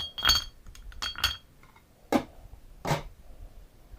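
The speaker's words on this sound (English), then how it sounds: "add a little bit of ice to the glass." Ice cubes drop into a cocktail glass in several sharp, bright clinks, a quick cluster followed by two single knocks, close and otherwise quiet.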